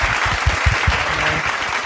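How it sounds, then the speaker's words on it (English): Brief applause, a few loud claps over a soft crowd wash, short and close. "I'll give you a little applause."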